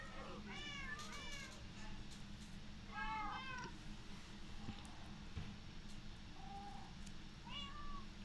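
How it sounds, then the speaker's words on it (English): Several cats meow in short, rising calls spread across the stretch, over a steady low hum of background noise; the calls come in small clusters, moderately close. "More cats."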